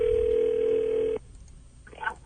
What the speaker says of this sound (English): Is he going to answer the phone?